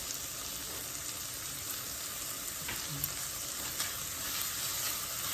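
Mixed vegetables and quinoa with coriander leaves sizzle steadily in a pan, a soft continuous frying hiss with a few faint stirring scrapes and no voices.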